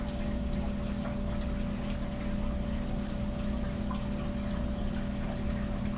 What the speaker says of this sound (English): pump just clicked on, and let's see if this valve does its job when it's done emptying